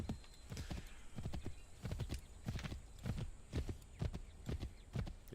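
A horse gallops in Assassin's Creed 3: rapid, continuous hoofbeats drum in a quick rhythm over a steady bed of game ambience, with no talking.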